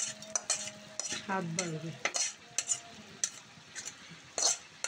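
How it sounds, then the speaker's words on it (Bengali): Panch phoron tempering poured into a pan of vegetable bhaji, with a sharp sizzle followed by scraping stirring and utensil clinks; a brief voice comes in near the end. "আমি এই যে পাঁচফোড়ন বাগার দিই সেটা বিসমিল্লাহকে ঢেলে দিলাম"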